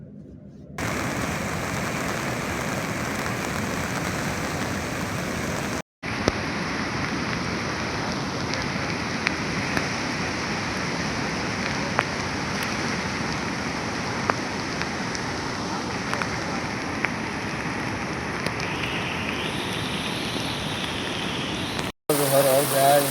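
Heavy unseasonal rain pours down in Mahuva, Bhavnagar, a loud, dense and continuous downpour roar drumming on surfaces for over twenty seconds, with faint voices in the background and two brief cuts to silence.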